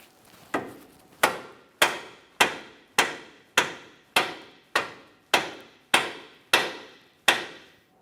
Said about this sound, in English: I'm going to tap on the control arm itself, right along this area, gently trying to drive this up into our steering knuckle